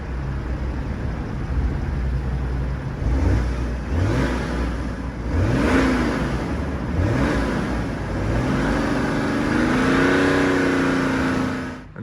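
A BMW E92 335d diesel engine, its exhaust clogged by a blocked DPF, starts and settles into a steady, loud idle with a few low revving swells, heard close at the exhaust with no talking.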